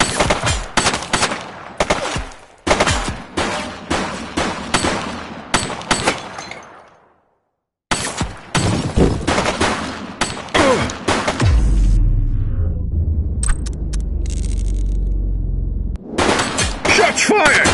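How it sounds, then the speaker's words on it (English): Gunfire in the police video game The Precinct comes as loud, rapid bursts of automatic shots. A brief silence breaks them up, then a low rumbling stretch follows before more close shots crack out. "Shots fired!"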